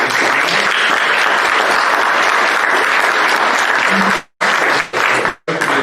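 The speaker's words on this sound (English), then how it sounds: "Let's give them a round of applause." A loud, sustained round of applause from a sizable crowd at an election candidate forum that fades out in a few breaks near the end.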